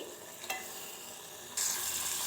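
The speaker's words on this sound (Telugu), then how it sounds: "ఇప్పుడైతే ఇందులో మనమైతే కడిగి పెట్టుకున్న మటన్ అయితే వేసుకోవాలి." Washed mutton pieces hit a hot pan and sizzle in the oil of a home-style mutton curry, a faint hiss that jumps sharply louder partway through and then holds steady, close with no talk.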